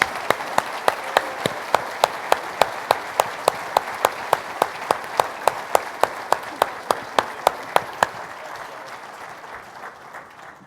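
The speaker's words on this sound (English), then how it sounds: "How about a big round of applause?" An audience at a keynote event at a US Army signal center applauds, with a crisp, evenly spaced clapping beat standing out over a steady bed of crowd applause that gradually fades at the end.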